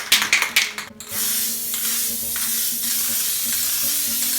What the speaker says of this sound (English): I'm going to give it a spray with this stuff here, which is golden satin varnish